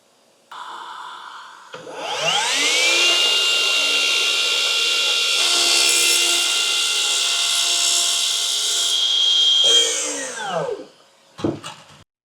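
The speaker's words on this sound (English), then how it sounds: "All we'll do is set the miter saw up" A miter saw set at zero degrees cuts flat through crown molding: the motor spins up, whines loudly and steadily through the cut for about eight seconds, then winds down, followed by a couple of brief clunks.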